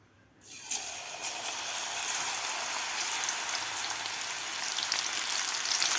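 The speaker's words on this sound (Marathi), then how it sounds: "मस्त कुरकुरीत होईपर्यंत आपल्याला ही शेंगा तळून घ्यायच्या आहेत." Cluster beans (gawar) dropped into hot oil burst into a loud, steady frying sizzle that starts after a brief silence and holds dense and close throughout, with no talk.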